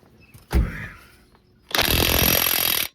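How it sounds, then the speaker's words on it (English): Bolts on a Hitachi UH061 digger track shoe are run up with a loud power tool, a brief burst followed by a longer sustained rattling, buzzing drive of about a second, close by. "just doing up the bolts now"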